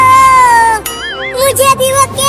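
A cat meows in a wavering, drawn-out cry, loud and close, over a busy, noisy background during a birthday gathering with a cake.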